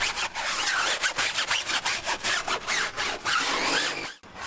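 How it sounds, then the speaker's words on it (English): Hard bristle brush scrubbing a rubber tire while detailing a car, fast rhythmic back-and-forth rasping strokes, close and continuous, stopping abruptly at the end. "You want to scrub this and do it as many times as it needs to until it's actually white."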